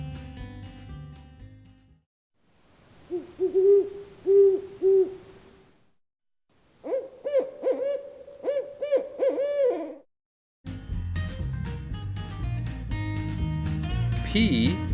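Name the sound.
owl hooting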